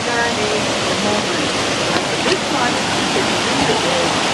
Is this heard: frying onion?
no